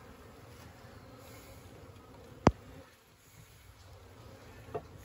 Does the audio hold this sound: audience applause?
no